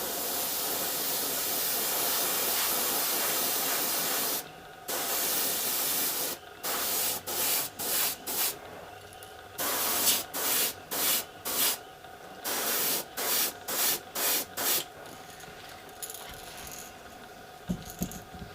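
Spray paint going on in coats, with no base or clear coat: a long steady hiss followed by a series of short, evenly spaced spray bursts separated by brief pauses, close and clear.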